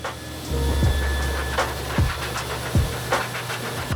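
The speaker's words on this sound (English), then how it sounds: "Then it's back to the dryer." A blow dryer drying a dog hisses steadily at close range, with low thumps and bumps of handling throughout and no talking.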